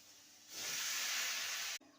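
Potatoes and snake gourd frying in a pan give a loud, steady hiss that swells after a quieter start and cuts off sharply near the end.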